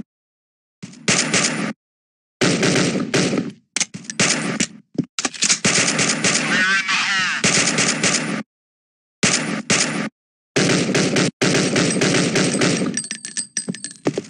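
Rapid bursts of automatic gunfire from the mobile shooter Toon Royale.io, loud and close, repeating in long volleys broken by brief silences.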